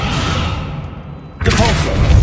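In Hogwarts Legacy, a Descendo spell lands as a sudden loud thudding whoosh partway through, breaking over steady game ambience and leaving a rumbling tail.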